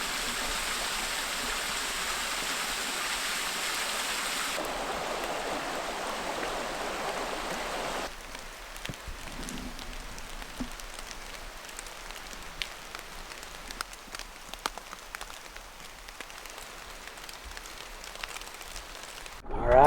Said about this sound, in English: Got quite a bit more water coming off the rocks here.